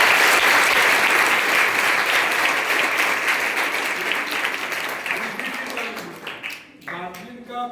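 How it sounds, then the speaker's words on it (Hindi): An audience claps loudly for guardians at a school gathering, a full burst of applause that gradually thins and fades over several seconds before a voice begins speaking at the end. "गार्जियन के लिए जोरदार ताली आप लोगों ने"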